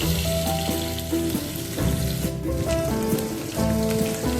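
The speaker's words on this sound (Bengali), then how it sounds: "এবার যেই বয়েলড করে রাখা আলুগুলো সেটা আমি একটু ভেজে নিচ্ছি।" Boiled potatoes fry in a little oil in a wok for a quick cabbage dish, giving a steady close sizzle throughout, with sustained tonal sounds running alongside it.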